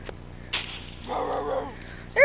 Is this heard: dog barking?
yes